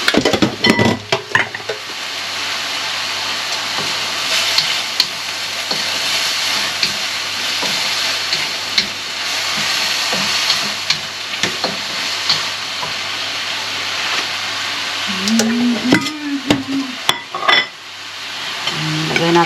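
Filipino pancit noodles stir-fry in a pan with a steady sizzling hiss, punctuated by scraping utensil and pan clatters, with occasional quiet speech nearby.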